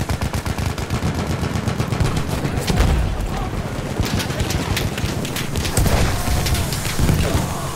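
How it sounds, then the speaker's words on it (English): Artillery shells and rapid gunfire in Battlefield 1 form a dense, loud barrage of cracks and booming blasts that rolls on without pause. "Artillery!"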